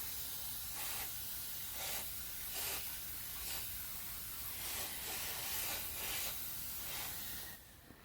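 Repeated soft misting bursts from a spray bottle over cauliflower seeds sown in soil blocks, a steady hiss with periodic puffs of spray throughout, close and fairly quiet.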